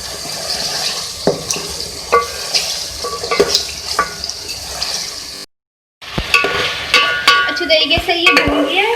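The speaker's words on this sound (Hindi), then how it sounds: "ये देख लीजिए, हमारी जो चिकन है ये भुन रही है।" Chicken pieces fry in a pan for korma while being stirred, a continuous sizzle broken by scraping and clinking of the spoon against the pan, with a brief gap midway.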